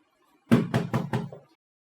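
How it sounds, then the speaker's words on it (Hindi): Four firm knocks on a house door in the morning, evenly spaced in a quick burst, close and fairly loud with nothing else around them. "सलमा, जाओ जाके देखो दरवाजे पर कौन आया है सुबह सुबह"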